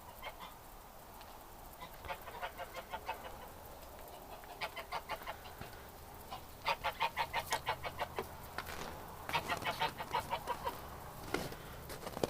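Geese and Muscovy ducks in a pen on a cold winter evening, honking and clucking in repeated bursts of rhythmic calls, fairly close, with quiet gaps between the outbursts.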